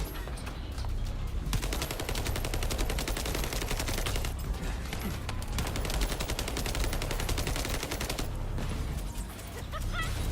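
Rapid automatic fire from an assault turret in The First Descendant, a dense, continuous stream of shots filling the whole stretch at close range with loud, steady intensity.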